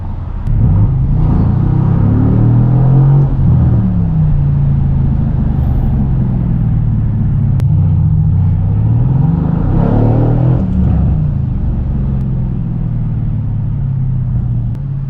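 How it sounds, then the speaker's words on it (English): Twin-turbo 503 horsepower V8 AMG engine in a 2018 car set to Sport Plus, cruising at night on the Las Vegas Strip: a loud, steady low rumble with swelling revs and gear-change dips, no talking. "This is a 503 horsepower V8 bi-turbo AMG"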